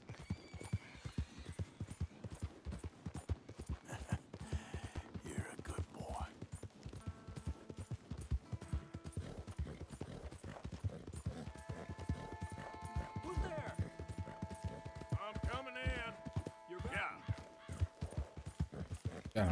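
Horse hooves clip-clop in a steady, continuous trot in Red Dead Redemption 2, close and quiet, with game music tones and a voice speaking partway through.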